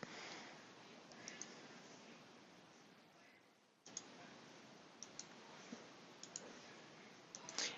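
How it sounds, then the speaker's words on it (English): A computer mouse clicks on a desktop, a handful of faint, sharp clicks scattered over quiet background noise, with a small cluster near the end. "You can also make changes by right-clicking the desktop"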